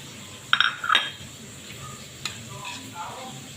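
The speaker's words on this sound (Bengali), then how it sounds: "আমি মশলাটা মিশিয়ে নিচ্ছি" Mustard spice paste with green chili and salt is stirred in a bowl, giving a few quick clinks and scrapes of utensil against dish early on, then softer mixing under faint background talk.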